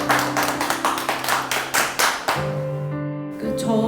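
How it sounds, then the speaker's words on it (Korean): At a talk concert in Gangwon, the audience gives a run of sharp, evenly spaced claps in quick rhythm for about two seconds. Sustained musical tones then take over. "큰 박수로 맞이해주세요."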